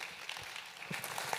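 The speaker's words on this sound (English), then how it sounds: "Let's give a warm applause." Applause from an audience thanking a panel at a conference on AI: a faint, steady wash of many hands clapping for a second and a half, with no voices over it.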